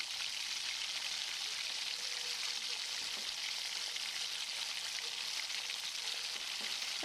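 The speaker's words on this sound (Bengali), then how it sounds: "তেলটা গরম হয়ে গেছে, এখন মাছগুলোকে ভাজার জন্য দিয়ে দিচ্ছি।" Steady, dense sizzling of fish frying in hot oil, crackling continuously at close range with no voices.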